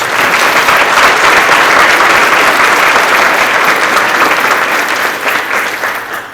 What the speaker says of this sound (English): ask for a round of applause for their support